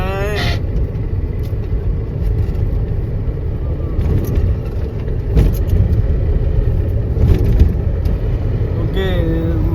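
Expressway traffic packed with trucks near Palghar on the Mumbai–Surat route, heard from inside a car: a steady low engine rumble with swells as heavy vehicles pass close and a few brief higher squeaks.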